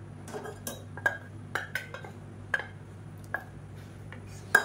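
Metal spoon clinks and taps against a cooking pot while moong dal is stirred in, scattered light chinks over a low steady hum, irregular and fairly quiet.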